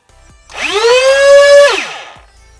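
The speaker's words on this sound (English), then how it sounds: "we will go ahead and rev this, and I'll let you listen to that one more time" The flywheel motors of a modded Nerf Fortnite AR-L SCAR blaster spin up with a rising whine, hold a loud, close, steady pitch for about a second, then brake to a quick stop.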